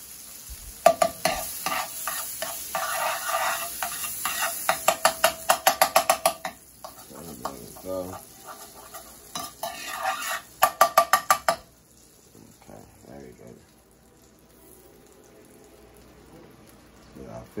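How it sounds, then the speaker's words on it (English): Butter sizzles in a hot pot with a steady hiss, broken by quick bursts of rhythmic tapping and scraping; the sizzle drops away near the end, and a voice is faintly present at times. "Put a little butter in my pot. Pot is kind of hot, guys"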